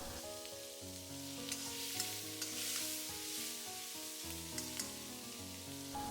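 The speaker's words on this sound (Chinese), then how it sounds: "把腌好的蒜苔倒进来，翻炒个1-2分钟，把蒜苔炒至断生" Marinated garlic scapes tossed in a dry wok crackle with a constant bright sizzle, broken by a few light scrapes of the spatula, close-up and quiet, with a faint musical backing underneath and no talking.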